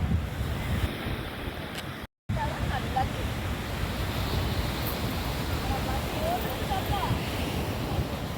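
Steady, broadband rush of sea waves breaking against something nearby on the coast near Rameshwaram or Tiruchendur, mixed with wind buffeting the microphone and a brief dropout.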